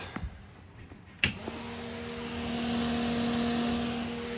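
RV roof vent fan in a 2022 Mesa Ridge S-Lite 262RL travel trailer: a couple of clicks, then a motor hum that spins up and holds steady, fairly quiet and close, with no voices.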